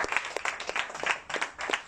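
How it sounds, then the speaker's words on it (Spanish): A church congregation at a Pentecostal worship service claps in a quick, uneven rhythm, the applause moderately loud and fairly close, with no voices standing out. "Dale palmas al Padre, al Hijo y al Espíritu Santo en esta hora"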